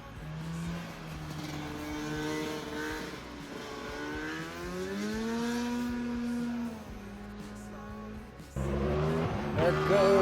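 A race car running the hillclimb course at Jefferson Circuit, its engine rising and falling through gear changes as it climbs, heard from a distance, then surging louder near the end.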